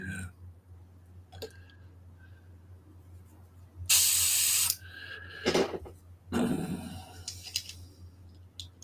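Airbrush spraying paint onto a sci-fi model in short bursts, with a longer hissing burst and several briefer ones at close range, separated by quiet pauses and no talking.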